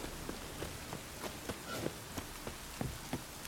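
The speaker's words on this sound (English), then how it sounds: "Rain was coming." Rainfall in The Witcher 3: Wild Hunt makes a quiet, steady hiss, with soft regular thuds spaced through it like footsteps moving through the wet.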